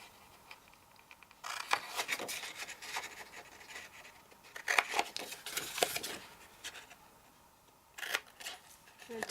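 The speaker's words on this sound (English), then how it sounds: "you want to cut these little squares off" Scissors snip small squares off a handmade Christmas countdown votive, quiet close cutting and rustling of craft material in irregular bursts, with soft pauses between cuts.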